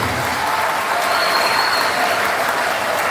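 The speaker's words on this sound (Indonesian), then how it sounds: "beri aplaus yang sangat meriah kepada Pak Anies Baswedan" Sustained applause from a hall of new university students honoring Anies Baswedan, dense and steady clapping throughout with a faint crowd murmur.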